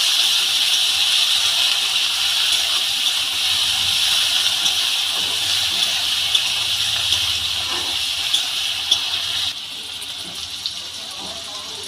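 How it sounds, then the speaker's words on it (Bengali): Boiled figs fry in hot oil for a Bengali dumurer dalna, a loud, continuous hissing sizzle close by that drops somewhat in level near the end. "সিদ্ধ করে রাখা ডুমুরগুলো আমি তেলের মধ্যে দিয়ে দিলাম।"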